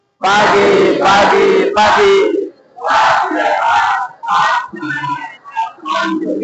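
A class of tenth-grade students shouts a loud, rhythmic morning spirit chant in unison in a classroom, delivered in several punchy bursts separated by short pauses.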